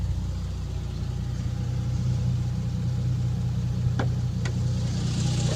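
A Toyota Supra engine idles with a steady low rumble, close and constant, with a couple of faint clicks near the end.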